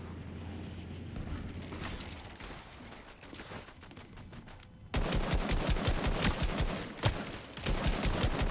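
Rapid bursts of video game gunfire, a dense fusillade of sharp shots that grows louder and more rhythmic halfway through, with a single stronger crack near the end.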